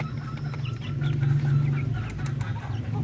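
Darag native chickens on a farm, about three months old, clucking and murmuring steadily at close range over a low continuous hum, with no talking.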